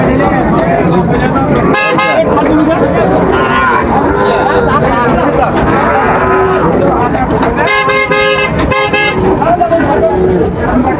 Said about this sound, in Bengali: দেখছিলাম এখানে গরুগুলো বেশ সুন্দর বাচ্চা শাহিওয়ালের